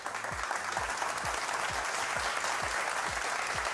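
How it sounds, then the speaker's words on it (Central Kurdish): A studio audience at a Kurdish quiz and prize show claps in a continuous, even wash of applause, with soft rhythmic low thumps pulsing underneath. "بژیت یەک چەپڵە بەهێز"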